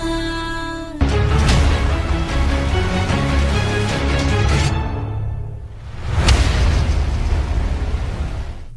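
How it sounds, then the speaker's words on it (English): Diwali fireworks go off in a dense run of booms and crackles, loud and close, with a second strong burst near the end. "To culminate Diwali, or the Festival of Lights, fireworks are set off."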